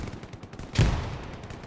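A burst of gunfire in the World War II shooter Hell Let Loose, with one sharp crack followed by a rattling tail, set against faint distant rumble.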